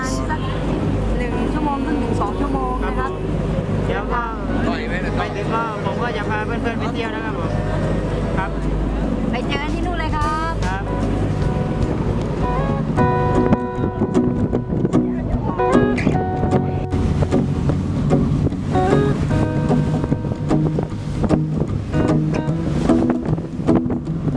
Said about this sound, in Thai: ตอนนี้นะครับเรือก็ออกเดินทางไปเกาะพีพีแล้วนะครับ